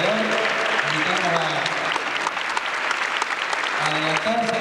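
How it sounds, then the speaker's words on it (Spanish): Audience applause at a choir festival, a continuous wash of clapping from a hall crowd, with a few voices speaking and calling out over it. "Nuestro aplauso a este broche de oro de Gloria de Vivar"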